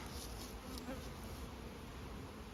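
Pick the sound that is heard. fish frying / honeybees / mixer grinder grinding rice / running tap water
honeybees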